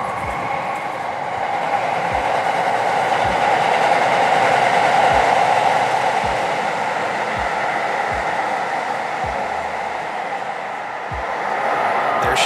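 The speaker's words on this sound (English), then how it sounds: "It sounds like another train's coming. We can watch it go by." A train passes by in Tokyo, heard from a rooftop, swelling into a steady rumbling roar with rhythmic clickety-clack wheel beats, then easing slightly before rising again.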